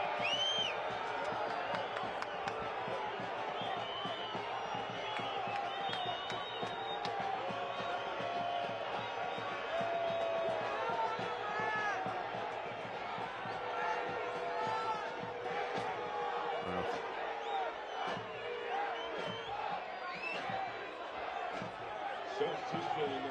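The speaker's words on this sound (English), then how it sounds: "Crowd growing a bit restless." A restless stadium crowd at a Lamar Hunt US Open Cup soccer match between Monterey Bay FC and LAFC. It keeps up a steady, distant murmur with scattered shouts and whistles, and a commentator talks over it throughout.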